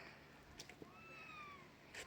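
A cat gives faint, drawn-out meows with a rising and falling pitch, quiet and somewhat distant over a low background hum, in a garden.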